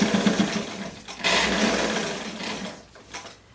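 Sewing machine stitching the seam of a simple one-piece blouse, a close whirring run that swells and fades in uneven bursts, with short pauses between stitching passes.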